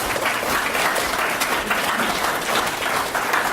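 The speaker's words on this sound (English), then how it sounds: "Let's not clap between the poems." An audience at a poetry reading bursts into dense, sustained applause between poems, many hands clapping loudly and evenly from nearby for a few seconds.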